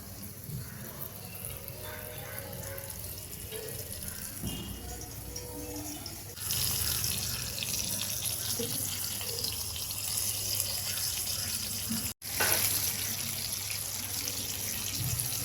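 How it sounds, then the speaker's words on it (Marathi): Stuffed pomfret fish fries in oil in a pan, giving a continuous hissing sizzle that grows louder partway through and then keeps on steadily, with no talking. "आता आपण हे पॅनमध्ये तेलात तळायला ठेवूया."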